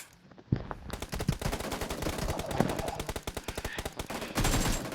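Rapid automatic gunfire from a video game weapon, loud and close, with dense bursts of shots running almost the whole time and no talk.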